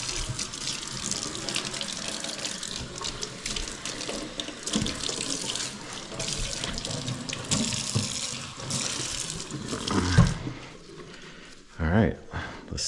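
Water runs steadily from a tap into a kitchen sink, filling it for a dishwasher drain test, loud and continuous for several seconds before it is shut off, followed by a few brief splashes.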